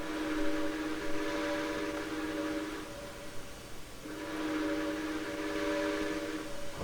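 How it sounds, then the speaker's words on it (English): Steam whistle of a Washoe Valley War Baby 4-8-4 locomotive in Trainz 2019, fitted with a New York Central whistle, blowing two long, loud, steady chime blasts separated by a short pause. "It wears a New York Central whistle right now"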